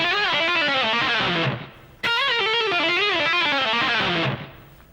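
Fast distorted electric guitar lick built on pull-offs from a solo, two quick rapid-fire bursts of notes with a short gap between them, loud and alone.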